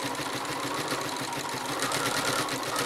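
Sewing machine stitching rapidly to couch down thread in free machine embroidery on a postcard project, a steady fast mechanical whirr with fine rhythmic clatter, close and continuous.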